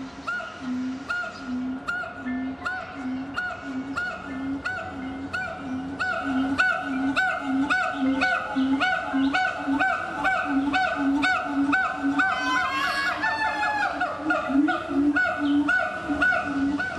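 Birds call in a Hong Kong zoo aviary, a steady run of loud, repeated goose-like honks pulsing evenly throughout, with denser overlapping calls near the end and no talking.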